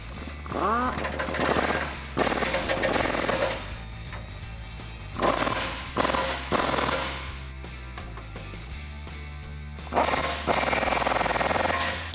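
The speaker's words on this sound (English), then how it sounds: "we can take our 19mm socket and go ahead and tighten those up." A 19mm socket tightens bolts on a Jeep Wrangler TJ subframe during a lift kit install, heard as loud rattling mechanical bursts that come and go over a steady low hum.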